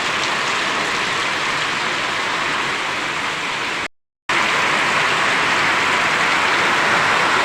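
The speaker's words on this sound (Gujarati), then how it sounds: "અવાજ સાંભળો મિત્રો તમે ખાલી વરસાદનો." Heavy rain pours down steadily on a farm, a dense, loud, unbroken hiss that cuts out briefly for a moment before resuming just as strong.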